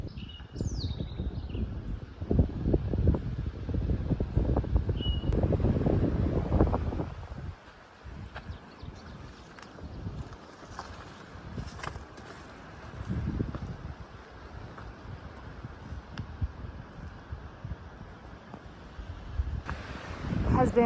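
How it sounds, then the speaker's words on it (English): Gusty wind buffets a hiker's microphone on the Appalachian Trail, loud roaring bursts at first easing into softer, intermittent gusts, with faint bird chirps early on. "It's windy today."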